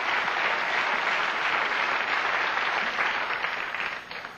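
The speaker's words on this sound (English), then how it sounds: "They started the applause over there." A late-night television studio audience breaks into sustained, loud applause, a dense wash of clapping that holds steady for several seconds before starting to thin out near the end, with no talking over it.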